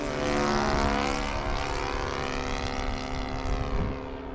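A Hangar 9 J3 Cub RC plane powered by a Saito FG-11 engine drones steadily overhead, its buzzing pitch sweeping gradually as it passes and fades slightly at the end.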